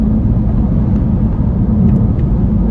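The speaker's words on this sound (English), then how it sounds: "I've got to talk quite loud because there is a little bit of the wind noise" Inside a BMW i3 on the move, a loud, steady low rumble of wind and road noise fills the cabin without a break.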